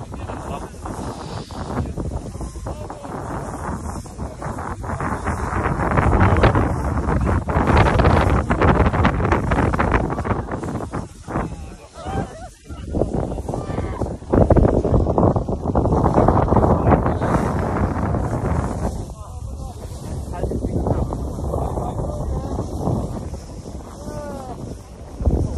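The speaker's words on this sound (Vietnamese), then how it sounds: "thấy một cái quạt gió rất là to ở phía sau lưng mình" A very large fan blows behind someone on a snowy winter trip in Gangwon-do, South Korea, producing loud, continuous wind roar and buffeting against the microphone, with people talking intermittently over it.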